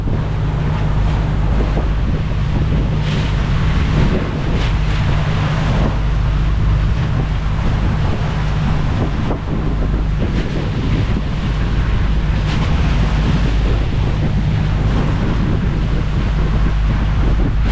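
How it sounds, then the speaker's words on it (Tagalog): Steady wind and sea wash heard from a boat crossing a calm sea off Cebu in the Visayas, with a constant low engine hum underneath; continuous and fairly loud, with no talking. "napakakalma ng dagat"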